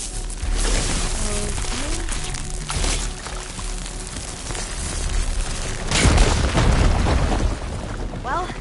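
Fire gleam exploding in the video game Horizon Forbidden West, a loud booming burst with rumbling low end amid ongoing game sounds, a second heavy blast hitting near the middle, with voices speaking over it.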